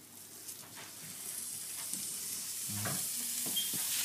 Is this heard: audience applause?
no